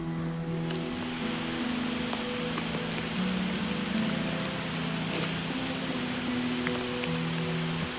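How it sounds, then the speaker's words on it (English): Late-afternoon tropical rain falls steadily on the Kokoda Trail under a forest canopy, a continuous broadband hiss of drops with no voices, holding at an even, moderate level throughout. "Late afternoon tropical rain, a portent of things to come."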